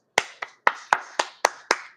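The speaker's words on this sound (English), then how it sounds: "You guys should be applauding right now." Seven sharp, separate hand claps in a slow, even rhythm, close and crisp, with a short ringing tail after each and silence between them.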